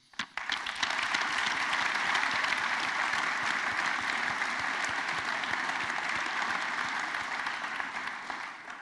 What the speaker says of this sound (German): darum möchten wir euch auch einen herzlichen Dank und einen Applaus geben